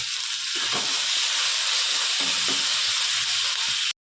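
Green chillies, onion and tomato sauté in a hot pan with a steady, continuous sizzle and hiss throughout, fairly loud and close, with no talking.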